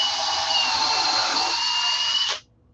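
A power drill drives a construction screw in one continuous high whine lasting a couple of seconds, close and loud, before stopping abruptly.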